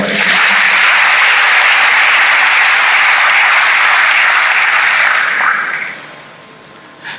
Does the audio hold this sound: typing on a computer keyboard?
no